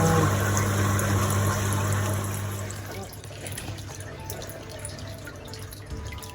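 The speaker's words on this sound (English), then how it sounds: "Our new aerator is working exceptionally well." Air bubbles from a new aerator churn the water in a fish tank, a steady watery trickle and burble that is louder at first and then settles to a lower, continuous bubbling with a low hum underneath.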